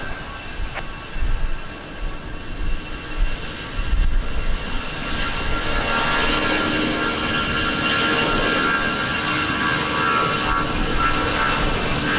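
Airplane engine roar at Lisbon Airport on a rainy day, a steady broadband rumble that builds and stays loud through the clip, with no talk.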